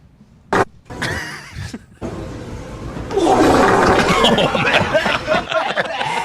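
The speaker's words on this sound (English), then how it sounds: "It's a long fart, start to finish." A long fart sound is played back over a podcast recording, its rough, noisy tail stretching for several seconds amid chatter and laughter from the hosts.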